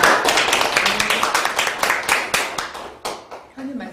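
A small audience claps for a book-talk author, loud and close at first, then thinning into scattered individual claps that trail off toward the end.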